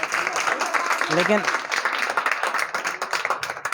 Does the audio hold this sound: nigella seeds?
no